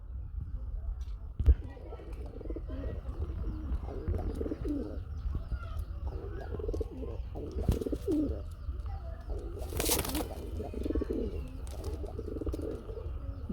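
A pair of orange Chila pigeons coo repeatedly in soft, rhythmic bursts, close and moderately faint, with occasional chirps and a brief loud rustle partway through.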